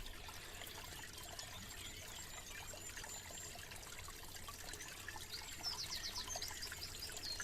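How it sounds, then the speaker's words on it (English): Faint spring water trickles and dribbles steadily from underneath a rock, a soft continuous flow close by with a slightly louder patch near the end. "See where it comes out. Right underneath the rock, look. You can hear it trickling away."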